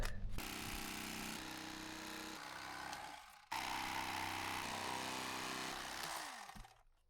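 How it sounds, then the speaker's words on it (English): Electric foam cutter with two reciprocating blades slicing through foam board, a steady loud motorized buzz running in two long passes with a brief stop between them, then winding down at the end. "So this is what I use to cut the foam board."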